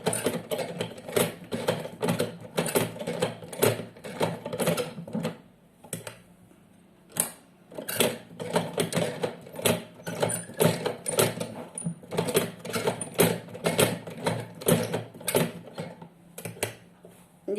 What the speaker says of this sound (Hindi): तो ये हमने एक तरफ का जो है वो सिल लिया है, ये दूसरी तरफ का हम सिल रहे हैं।